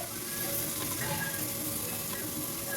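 Spices crackle and fry steadily in hot oil for mutton kulambu, a dense continuous sizzle close by with no talking.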